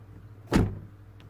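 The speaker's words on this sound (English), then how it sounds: "So when I close the door" A single solid thump as a Jaguar car door swings shut, short and close, with quiet surroundings before and after; the car has a passive entry fault.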